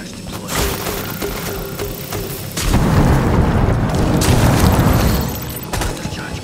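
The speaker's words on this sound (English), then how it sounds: "Cluster charge going up." A cluster charge detonating in Rainbow Six Extraction: a loud, rumbling burst of several blasts rolls through for a few seconds after a quieter mechanical lead-in.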